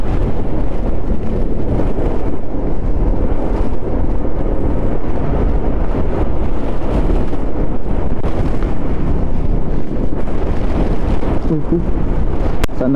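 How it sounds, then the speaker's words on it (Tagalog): Strong wind roars and buffets steadily across a wet road, a loud, dense rush with gusty low rumbling throughout and no clear talk. "Lakas ng hangin talaga."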